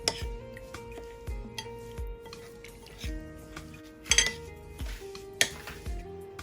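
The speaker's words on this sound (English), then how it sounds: "Mix all the oil, pickle masala." Spoon and bowl clink and scrape as apple pickle is stirred together with oil and pickle masala, a series of close metallic taps and rattles with brief louder knocks, no voices.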